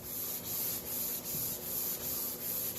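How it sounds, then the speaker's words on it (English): Steady back-and-forth sanding of wax from the wooden surface of a homemade fly-tying station, close and rhythmic, with regular rubbing strokes and no talking. "it's just basically a little sanding."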